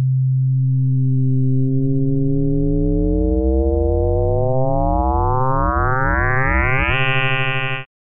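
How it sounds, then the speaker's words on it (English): A synthesizer tone with linear FM starts as a low steady drone, then its harmonics spread and sweep upward into a dense, rising chirping texture, holds briefly, and cuts off abruptly. "switching to linear FM"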